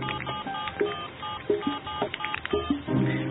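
A telephone gives a run of tonal beeps like dialing tones, with stepped pitches and short pauses in an irregular sequence, band-limited and fairly close, with no talk.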